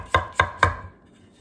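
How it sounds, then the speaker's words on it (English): Three crisp, evenly spaced knife chops of a Miyabi Mizu 9.5-inch kiritsuke through an apple onto a cutting board, close and clear, with a short quiet tail after the last stroke. "Forgive my poor chopping technique."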